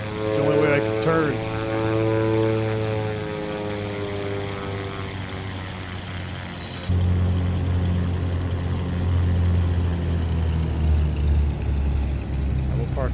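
A twin piston airplane taxis on an airport taxiway, its engines giving a steady droning rumble with shifting tones that change pitch partway through, heard close from inside the cabin.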